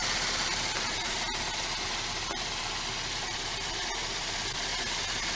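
A 3.6 V6 engine idles with a constant, dense rumble and hiss that stays level throughout, close and unbroken, with a few faint clicks and no voices.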